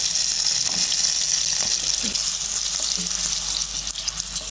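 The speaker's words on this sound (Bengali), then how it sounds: "হাফ চামচের মতো কালো জিরের ফোড়ন দিলাম কাঁচা লঙ্কা দিয়ে দিলাম" Black cumin seeds and green chillies sizzling in hot oil, a loud continuous frying hiss from close by with a few small stirring clicks.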